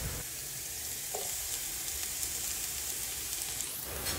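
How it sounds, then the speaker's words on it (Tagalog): Ginger and onion leeks sauté in hot oil in a pan, a steady loud sizzle and crackle with occasional stirring scrapes, close and alone. "nagpainit na ako ng mantika sa pan para maggisa ng luya at ng onion leeks"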